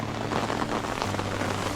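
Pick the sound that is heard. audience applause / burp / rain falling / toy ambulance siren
rain falling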